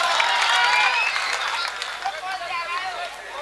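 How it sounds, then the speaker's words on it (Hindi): Applause and crowd noise at a mushaira poetry gathering, a dense burst of clapping that slowly thins out over a murmuring audience. "मैं भाई हाशिम साहब की आमद पे जोरदार तालियां होनी चाहिए।"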